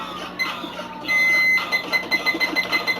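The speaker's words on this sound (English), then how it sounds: "We're going to set my timer for 15 minutes." A kitchen timer is being set for 15 minutes, giving a sequence of short electronic beeps and one sustained higher tone, close and fairly loud in a quiet kitchen.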